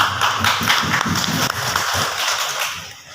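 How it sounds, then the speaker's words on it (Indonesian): An indoor audience applauds Pak Harun at a gathering of Trenggalek decorators, a dense burst of close clapping that thins and fades toward the end. "mohon tepuk tangannya buat Pak Harun"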